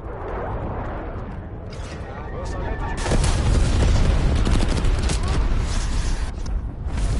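Gunfire in the video game Call of Duty Black Ops Cold War inside a shopping mall, rapid bursts of shots and booms building into a loud, continuous barrage through the second half.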